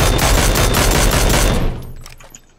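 Loud, rapid automatic gunfire rattles close by in the PUBG video game, a dense burst that cuts off after about a second and a half, followed by fainter scattered shots and movement.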